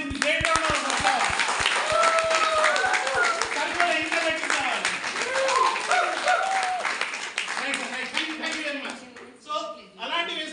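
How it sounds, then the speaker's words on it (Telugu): A large audience claps and applauds at an awards-related gathering honoring women's empowerment, the dense clapping steady and near, fading slightly toward the end. "Great round of applause."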